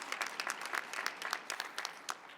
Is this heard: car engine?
no